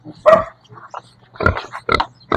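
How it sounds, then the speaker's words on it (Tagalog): A pet gilt pig on a small farm gives several short grunts and squeals in bursts, close and fairly loud, with quiet gaps between them. "mabait yung baboy ko na to guys"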